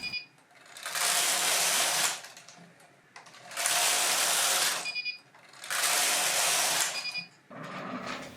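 A knitting machine carriage runs three long broadband passes across the bed, each lasting about a second and a half with short pauses between, working the rest of a mitten's hand; close, loud and steady, with no talk.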